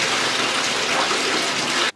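A tap gushes tepid water into a bathtub being filled for a dog's bath, a loud, steady, close rush of water that cuts off abruptly at the very end.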